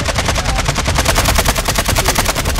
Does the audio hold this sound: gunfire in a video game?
yes